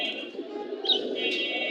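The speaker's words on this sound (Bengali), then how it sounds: "মাশাআল্লাহ খুবই সুন্দর কবুতর।" Pigeons coo softly at a crowded pigeon market in Mirpur 1, Bangladesh, a brief low murmur close by with a faint chirp over it.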